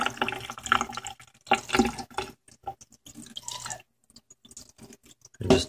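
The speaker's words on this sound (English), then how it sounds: "And just turn the warm water on." Warm tap water runs into a kitchen sink while salt is rubbed and rinsed off a metal piece being patina-tested, splashing in irregular bursts with short pauses, close and fairly loud.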